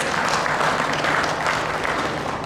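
Steady audience applause from a crowd, a dense continuous wash of clapping that holds at a constant level throughout without any break.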